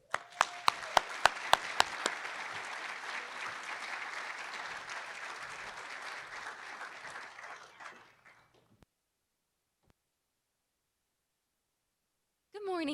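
Audience applause welcomes the keynote speaker, Miss Universe 2017, at a nonprofit summit. It opens with a few sharp claps, then settles into steady, fairly distant clapping for about eight seconds before fading to silence, and a voice starts at the end.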